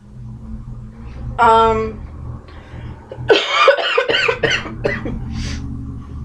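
One short cough, then a few moments later a burst of rough, hacking coughs, close and fairly loud over a low background hum.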